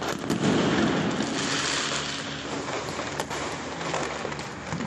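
Noise firecrackers go off on Kali Puja night in Kolkata, producing a dense, continuous crackle of bursts and pops that fills the air from start to finish.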